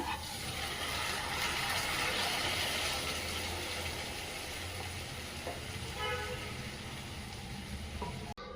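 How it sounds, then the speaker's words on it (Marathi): Cooked dal goes into a pan of sizzling fried urad, and a dense, loud frying sizzle hisses steadily from close by, easing slightly near the end, with no one speaking. "आता हे टाकून घेऊया शिजवलेलं वरण"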